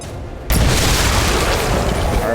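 A propane tank explodes in a video game shootout, blasting a hole in the side of a building: a sudden loud boom after half a second of quiet, followed by a sustained roar of debris and rumble.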